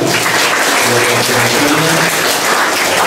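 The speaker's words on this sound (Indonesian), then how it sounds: "Kita berikan aplaus yang meriah untuk beliau" An audience at a motivational training seminar applauds a speaker, dense, loud, sustained clapping filling the room with a faint voice briefly underneath.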